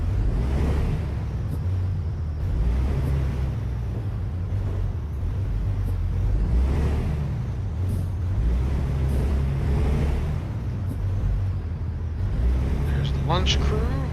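A truck engine rumbles low and steady in American Truck Simulator, swelling gently now and then as the rig gets underway, with a person talking over it throughout.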